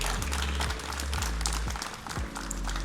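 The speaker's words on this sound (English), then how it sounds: "Let's give a huge round of applause to all of our panelists and Krish for moderating." Audience applauds panelists and the moderator at the close of an AI summit panel at Santa Clara University, a steady wash of many hands with low rumbling thumps underneath, lasting about three seconds.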